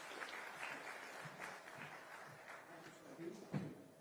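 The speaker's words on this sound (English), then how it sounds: "Let's welcome him with a huge round of applause." Audience applause at an Independence Day celebration gathering, a steady wash of clapping from the crowd running throughout with some background voices mixed in.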